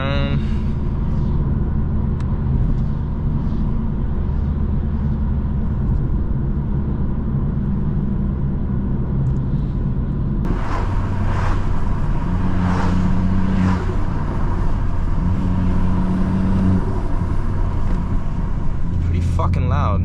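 A BMW M2 with a turbocharged engine drives along roads after a snow storm, its engine rumbling steadily and loudly throughout, then growing louder and harsher midway as it accelerates, with repeated surges of revving.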